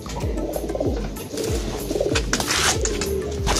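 Pigeons coo repeatedly in low, throaty rolling calls, several birds overlapping close by amid a busy background of rustling and flutter.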